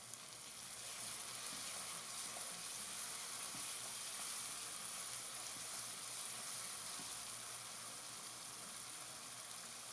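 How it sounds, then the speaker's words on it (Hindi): Mutton karahi masala fries in a pan with a steady, dense sizzle that stays even and close for the whole stretch, with no talking over it. "मसाला हमारा जो है बहुत ही अच्छे तरीके से फ्राई हो रहा है।"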